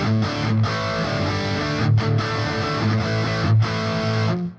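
Electric guitar played through a Boss GT-1000 Core stereo rig with split left and right speaker simulators, a dense distorted riff with chugging chords and brief pauses, full and loud with no talking.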